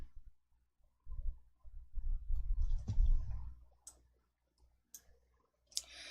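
Mouse clicks in an Excel spreadsheet, a few soft clicks amid quiet low rustling and handling noise, with sparse sharper clicks toward the end.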